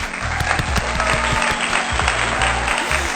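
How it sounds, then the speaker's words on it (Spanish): A studio audience applauds a podcast guest, dense continuous clapping heard close and steady throughout, with music playing underneath. "Un aplauso, por favor."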